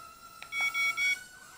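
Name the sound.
Eachine E10W drone beeping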